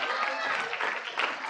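A crowd applauding at a prize announcement during a large student tech expo, a dense, continuous wash of clapping throughout.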